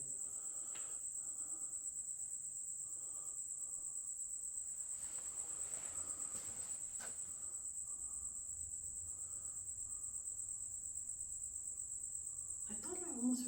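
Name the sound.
crickets chirping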